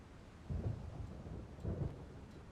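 Thunder rolls in a Silent Hunter 5 storm at sea, two low rumbling swells about a second apart over a faint, steady wash of rain.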